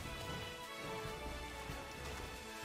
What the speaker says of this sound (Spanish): ¡Eh, llueve!